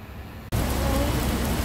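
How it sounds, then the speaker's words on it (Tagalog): Steady rain pours down, a dense close patter on surfaces that cuts in abruptly after a brief near-silent start and then continues unbroken. "Ayan, umuulan pa rin."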